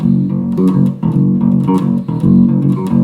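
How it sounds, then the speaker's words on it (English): Bass guitar plays the main riff, a loud, driving repeated low pattern in steady pulses with a few brighter plucked accents over about three seconds, no speech. "So the main bass riff of this song sounds like this."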